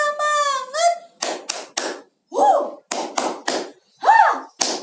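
Young children in an early-childhood classroom do a rhythmic cheer clap led by a teacher, sharp bursts of claps in a patterned rhythm alternating with short chanted voices.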